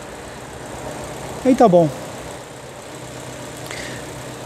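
GM car engine with an Econoflex motor idling after a timing belt replacement, a steady low hum running throughout while someone speaks briefly in the middle.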